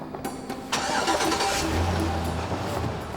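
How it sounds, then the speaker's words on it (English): A hotwired pickup truck engine cranks, then fires and roars to life at close range, settling into a loud, steady low idle, with no voices. "Finally, the pickup roared to life and the men took off."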